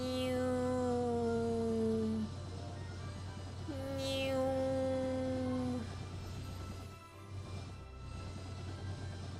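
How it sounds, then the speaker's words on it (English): A cat's meow-like call sounds in a Bravely Default Flying Fairy HD Remaster game, two drawn-out tonal cries over a steady background hum, loud and close with no talk. "Meow."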